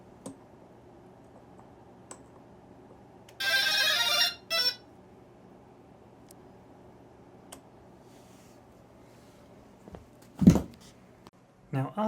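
Startup melody from a tailsitter drone's flight controller, played through its ESCs and motors: a brief electronic tone burst and a short follow-up beep, with scattered faint clicks and a low thump later on.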